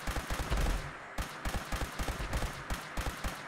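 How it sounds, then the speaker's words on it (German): Rapid bursts of gunfire in the video game Fallout 76, sharp repeated shots in quick clusters with brief gaps, loud and close, with no talking. "Hier wird nur geschossen."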